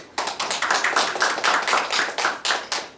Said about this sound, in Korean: 정답이에요. 박수.